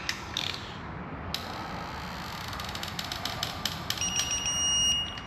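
A ratchet wrench clicks as it torques bolts on a Ford F-150 3.5 EcoBoost engine during an engine build, giving rapid mechanical ratcheting bursts, close and fairly loud, along with a steady high electronic beep near the end.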